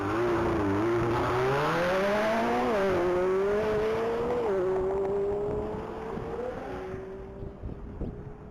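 A 2023 McLaren 720S making a top speed run at the Texas Mile, its engine tone rising steadily through several gear changes with a loud, roaring pass and heavy wind rush, then fading slightly toward the end.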